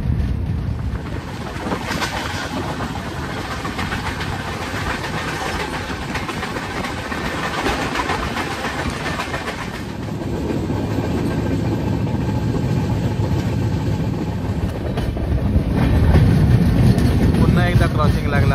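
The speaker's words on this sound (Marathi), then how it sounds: "कोकण कन्या पुढे चालतं आपल्या." Konkan Kanya Express running on the Konkan line, a steady low rumble of engine and rolling wagons heard from on board, continuous and fairly loud, with people talking over it.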